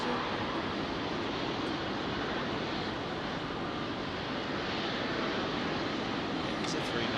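A British Airways Airbus A319 jet departing Heathrow produces a steady, broad roar of engine noise at a distance, constant in loudness throughout with a faint rumble underneath.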